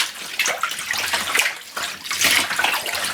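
Tap water runs steadily while the bottom of a freezer is rinsed during a clean-out after a long power outage, a close continuous splashing rush with no talk.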